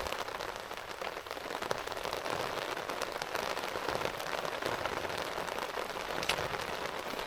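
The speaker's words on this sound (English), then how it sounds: "Everything's up and it started raining." Rain falls steadily at a hammock campsite in Florida foul weather, a dense, even patter of drops on nearby surfaces with no break and no voices.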